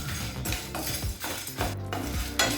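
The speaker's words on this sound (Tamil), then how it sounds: "இது எல்லாத்தையும் நல்ல வாசனை வர வரைக்கும் வறுத்துக்கலாங்க" Coriander seeds and cinnamon being dry roasted in a pan, with repeated scraping and stirring clatter of a utensil against metal and faint crackling, close and rhythmic.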